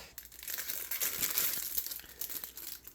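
Plastic packaging crinkles and crumples continuously for a few seconds, a crisp, close rustling with bursts of louder crunching.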